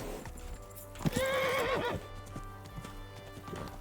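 A horse in a video game gallops with fast, steady clip-clop hoofbeats and gives a loud, shrill whinny in the middle, the hooves continuing close afterward without talking.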